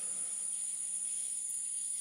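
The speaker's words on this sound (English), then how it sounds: "I hear crickets, and I hear a few frogs." Crickets chirp at night in a steady, unbroken high trill that holds at an even level throughout, with no other sounds standing out.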